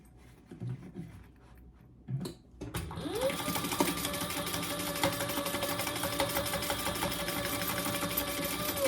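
A few soft rustles and taps come first, then a sewing machine starts up close by and stitches a lining seam with a steady, rapid mechanical hum and needle chatter that continues to the end.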